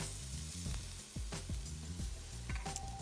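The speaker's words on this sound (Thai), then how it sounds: "ตั้งกระทะให้ร้อนแล้วใส่เป็ดบดลงไปค่ะ" Minced duck sizzles and crackles in a hot, oil-free pan, with a spatula scraping and clanking against the metal now and then.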